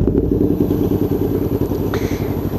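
A Yamaha MT-07 motorcycle idling with a G-Scape sport exhaust, a close, steady low throb with a slightly uneven pulse and light mechanical clatter, heard on its own for a couple of seconds.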